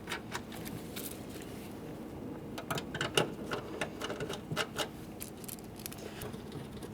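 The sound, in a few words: driving in door panel mounting bolts, Nissan Maxima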